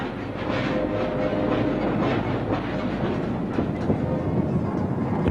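A coal train of rapid-loaded hopper cars rolls along a British railway in the 1980s, a loud, steady rumble with rhythmic wheel clatter throughout and no voices.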